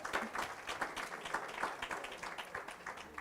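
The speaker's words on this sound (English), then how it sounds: "Let's give her another round of applause." Audience applause from a workshop crowd, a faint, steady patter of many hands clapping for a few seconds with no clear speech over it.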